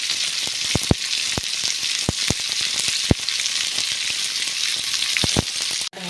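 Small bitter gourd pieces sautéing with garlic and tomato in a pan, a loud continuous sizzle dotted with sharp spatula taps and clicks, ending in a clattering knock.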